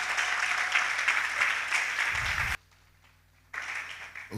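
A church congregation applauds and cheers in a steady, dense wash of clapping that stops abruptly partway through, then resumes.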